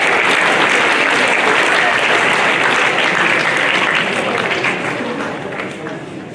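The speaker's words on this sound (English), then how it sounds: "big round of applause" A school audience in a high school gathering for UAE National Day gives a big round of applause. The dense, loud clapping from many hands is sustained and close, then gradually fades toward the end.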